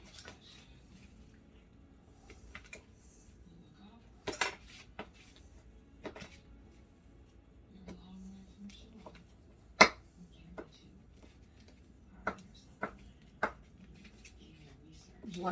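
Knife strikes against frozen, solid butter on a board, a scattering of sharp clicks and taps spread through the clip, with quiet kitchen handling noise between them.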